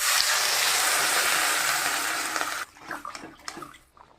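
Water pours in a loud, steady rush onto flat beans, potatoes and peas frying with spices and turmeric, then cuts off, leaving a quieter bubbling sizzle and a few light clatters.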